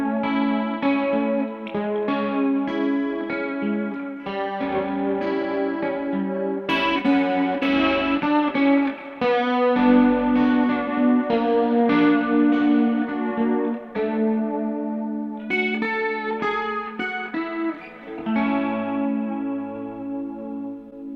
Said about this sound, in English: And here's the chorus reverb with the Gen Loss